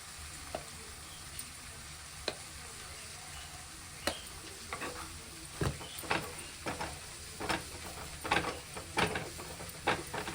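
Onions sauté in a pan for Tamil kara kuzhambu, a soft continuous sizzle broken by repeated sharp scrapes and clinks of stirring that grow busier toward the end, close but quiet, with no voices.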